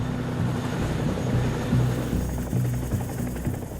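Military helicopters fly over northern Mali during a French army operation, their rotors a loud, steady low throbbing drone with rhythmic chopping pulses that fills the whole stretch with no talk.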